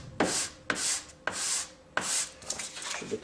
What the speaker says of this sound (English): I'm going to change my direction with the sandpaper every once in a while so I have some fresh grit to work with.